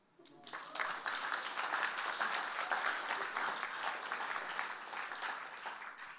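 A church crowd at an ICF Zürich service breaks into applause, rising quickly from near silence to a broad, steady wash of clapping that holds at moderate loudness and tapers slightly at the close.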